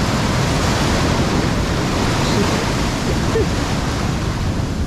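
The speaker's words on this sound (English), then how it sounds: "Big waves, man. Look how big the waves are." Large ocean waves crash on a beach in Brazil, a continuous loud roar of surf with wind buffeting the microphone, steady and close throughout with no other sounds.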